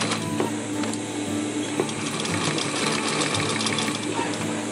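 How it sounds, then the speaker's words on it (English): A sewing machine runs steadily, stitching a fabric rollup bag at close range, its motor whirring and needle clattering continuously with no talk. "continue sewing back to the starting point"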